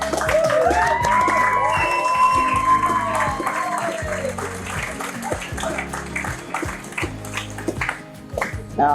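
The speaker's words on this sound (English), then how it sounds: "if you can whistle, cheer, or anything, let's show some appreciation for how much effort they've put in" Wedding guests cheer, whistle and applaud the bridal party in a continuous loud wave of clapping and shouting, with sharp whistles rising above the crowd noise throughout.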